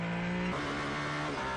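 An Alpine hypercar races through a chicane at Spa during a WEC endurance race, its engine note holding a steady pitch, dropping sharply as it shifts, then droning on loud and close without any talk.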